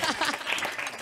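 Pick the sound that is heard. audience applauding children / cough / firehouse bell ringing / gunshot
audience applauding children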